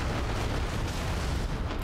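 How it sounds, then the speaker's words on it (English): Several grenades go off in Dawn of War 2, merging into a loud, continuous rumble of blasts with dense low-end booming and no voices. "That's a bunch of grenades that he just threw."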